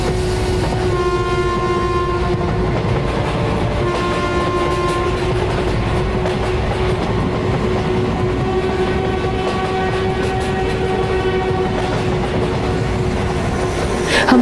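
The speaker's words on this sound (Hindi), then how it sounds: "ट्रेन चल पड़ती है।" A train pulls away in steady motion, a continuous rumble of rolling wagons with sustained horn-like tones running throughout, loud and close, with a faint rise at the end.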